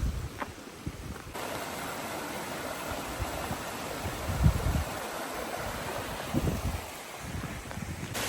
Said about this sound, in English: So you got this nice little creek coming up, all these trees.